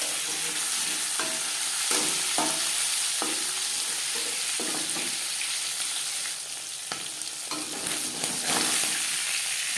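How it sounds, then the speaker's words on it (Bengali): Pangas fish fries in its own oil in a pan, a loud, continuous sizzle broken by periodic scraping and stirring knocks, with no talk. "মাছ ভাজা হয়ে গেছে"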